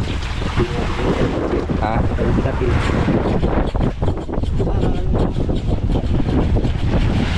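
Strong wind roars steadily across the microphone aboard a small boat at sea near Banton, with waves and water rushing beneath; a voice briefly calls out over the loud, continuous gusting.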